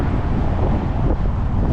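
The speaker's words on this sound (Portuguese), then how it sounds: "está ventando e frio" Strong, cold wind buffets the microphone in a continuous low roar on the Strait of Magellan, loud and close, with no voices.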